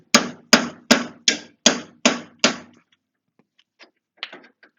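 Seven hard, evenly spaced hammer blows ring out on a reversed axle nut, seating a new CV axle on a 2009 Kubota RTV 500 utility vehicle, followed by faint tinkering and a few light metallic taps.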